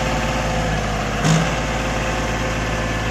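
A John Deere 5050D 4x4 tractor engine idles close and loud, a steady unbroken diesel drone with one brief louder knock partway through.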